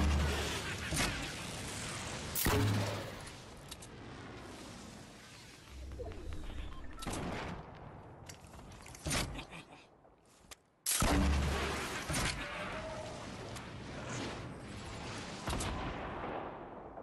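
Sniper and other gunfire in a Fortnite match: several sharp, loud reports spaced irregularly over about seventeen seconds, each with a crashing tail, with a short near-silent gap midway before the shots resume.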